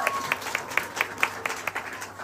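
An audience at a Christmas celebration claps together in a steady, even rhythm, the applause fairly soft and held at a moderate distance.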